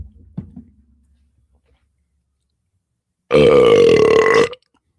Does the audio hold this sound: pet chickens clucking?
no